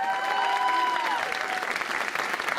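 Audience applause at a live food talk event, a dense wash of clapping from a crowd, loud and sustained across the moment.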